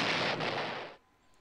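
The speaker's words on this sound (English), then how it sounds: "Stun grenade." Stun grenade going off in Psycho-Pass Mandatory Happiness, a single loud, broad burst that rings for about a second and then cuts away to near silence.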